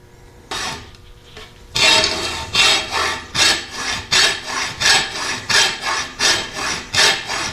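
Hand saw cutting a notch into an Osage orange selfbow, a rhythmic rasping of steady back-and-forth strokes in wood, close and loud, with no talking.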